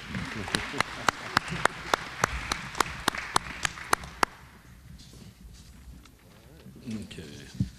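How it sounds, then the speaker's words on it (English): Sparse clapping at a chamber of commerce luncheon in a steady, even rhythm for a few seconds, then it fades into quiet room noise and faint voices. "Give your new board members a round of applause, please."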